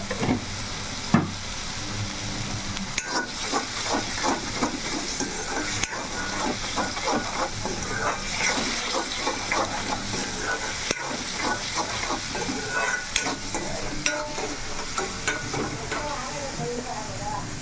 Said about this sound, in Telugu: ఇప్పుడైతే వేగుతుంది కదా